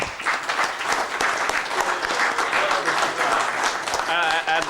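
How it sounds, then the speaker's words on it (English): Audience applause as a team member is called up to the front, dense clapping mixed with voices and cheering, continuous and fairly close. "Give him a big round of applause"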